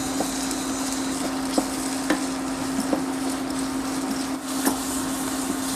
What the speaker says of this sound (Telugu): కరివేపాకు కొద్దిగా వేగిన తరువాత ఉల్లిపాయ ముక్కలను వేసుకోవాలి ఈ ఉల్లిపాయ ముక్కలు త్వరగా వేగటానికి సరిపడే కళ్ళుప్పును కూడా వేసుకుని వీటిని కాసేపు వేగనివ్వాలి